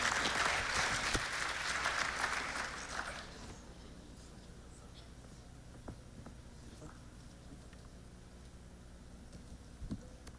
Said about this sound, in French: Applaudissez, merci.